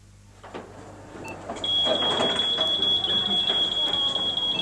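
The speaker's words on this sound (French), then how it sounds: "À la sortie du magasin, le bip sonne." A shop's exit security alarm sounds a steady, sustained high electronic beep that starts partway through and holds loud to the end, over faint background noise and a brief murmur.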